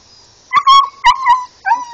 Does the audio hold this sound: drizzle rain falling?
no